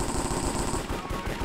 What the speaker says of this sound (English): Can you hear those gunshots?